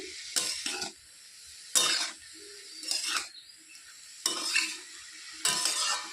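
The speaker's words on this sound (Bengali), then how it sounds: "ভালো করে একটু নেড়ে চেড়ে দিচ্ছি" A spatula stirs and scrapes a cabbage filling for pulli pitha in a frying pan, five rough scraping bursts with brief gaps between, over a light sizzle, close up.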